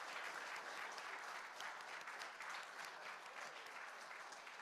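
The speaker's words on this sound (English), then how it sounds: "one more round of applause for Eva to be with us tonight" A round of applause from an audience at a Holocaust Remembrance Day event, even and sustained with many hands, faint in level and heard without any speech.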